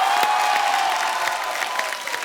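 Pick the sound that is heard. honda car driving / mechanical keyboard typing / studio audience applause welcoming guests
studio audience applause welcoming guests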